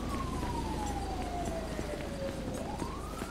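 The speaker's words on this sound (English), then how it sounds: "What is that siren? I'll have to see what that siren is." A siren in Grand Theft Auto V wails steadily in the distance, its pitch slowly falling then rising again, over a constant low rumble.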